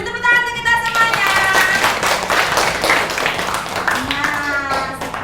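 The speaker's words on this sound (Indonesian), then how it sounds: "Beri tepuk tangan untuk kita semuanya." Schoolchildren in an elementary maths classroom clap their hands together in quick rhythmic bursts, with voices talking and calling out over the clapping.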